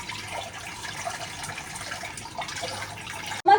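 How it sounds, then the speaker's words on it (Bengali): Tap water runs steadily into a wok, a continuous close splashing rush for several seconds before a sudden clunk at the end. "আমি সেদ্ধ করার জন্য এখন জল ভরছি কড়াতে।"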